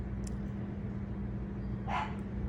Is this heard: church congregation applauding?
no